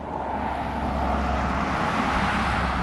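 Steady street traffic drones without a break, a continuous broadband rumble with a low roar, heard from a front yard. Nothing else stands out and no one speaks.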